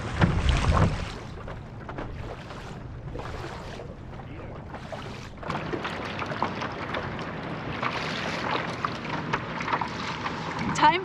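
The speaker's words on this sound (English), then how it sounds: "I've got boat wakes coming at me from like all different directions" Boat wakes slap and slosh against a Hobie Lynx kayak on Lake Erie in irregular close splashes, with gusty wind buffeting the microphone throughout.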